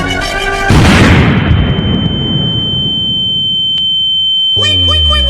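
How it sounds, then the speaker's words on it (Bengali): A homemade bomb goes off with a loud boom that dies into a long, fading rumble. Sharp electronic tones, like a smoke alarm, are heard before the blast and again after it. "আগে বম ফুটাও।"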